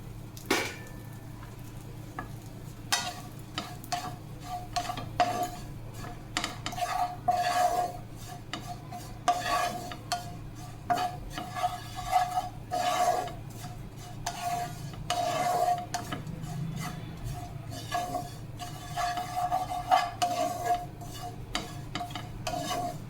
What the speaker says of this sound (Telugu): ఒక చుక్క నెయ్యి వేసుకొని ఎండు కొబ్బరిని కూడా వేయించుకునేద్దాం.